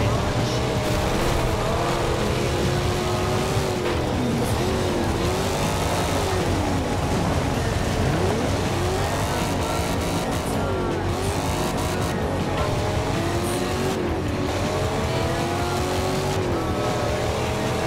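A Chevrolet Camaro's racing engine roars steadily in Forza Horizon 2, rising and falling through gear changes with occasional tire squeal, loud and continuous throughout.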